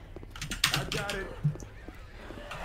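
Close computer keyboard clicks while playing Left 4 Dead 2, a quick irregular cluster of key taps with a couple of louder thumps, over quiet game sound and faint voices.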